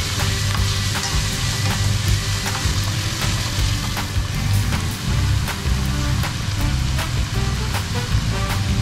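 Minced pork stir-fried in a pan, loud continuous sizzling with frequent clattering scrapes of the spatula throughout, nobody speaking.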